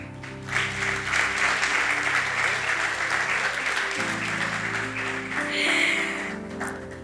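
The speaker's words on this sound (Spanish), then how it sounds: "Dale un fuerte aplauso al Señor." Congregation applauding the Lord at a Spanish-language church service, a loud sustained wash of clapping with steady music and organ-like tones underneath, swelling again near the end.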